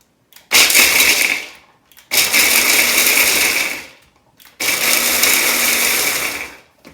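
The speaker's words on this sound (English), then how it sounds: "I'm going to put it in a blender." A blender chopping pecans runs in three loud bursts of a few seconds each, whirring and grinding with short pauses between pulses.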